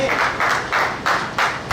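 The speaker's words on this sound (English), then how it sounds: "He gets a round of applause for that one." Bursts of crowd applause for a bowler's strike at a Prodigy Bowlers Tour event, several swelling waves of clapping in an indoor bowling centre.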